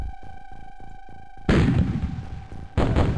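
Weapon fire in the Ace Combat 5 video game, two heavy booming blasts that burst in one after the other over a steady electronic hum of game music.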